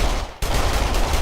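Rapid automatic gunfire from enemy AI in a shooter video game, loud and close, with a short gap before a dense burst of shots continues.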